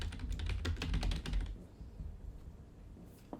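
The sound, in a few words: typing a file name on a computer keyboard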